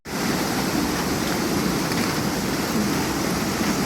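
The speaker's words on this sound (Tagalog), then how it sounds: "Grabe, laki ng tubig oh." Rushing brown floodwater after a sudden downpour in Santa Margarita, Hilongos, Leyte, a dense unbroken roar of moving water, loud and close throughout with no voices.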